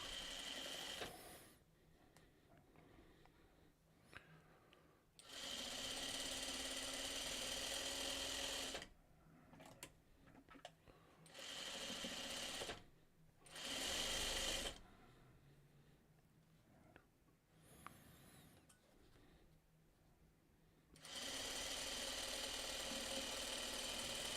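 A sewing machine runs in several bursts while stitching a quilt seam, a loud steady mechanical whir lasting a few seconds at a time and separated by quiet pauses, close up with no speech.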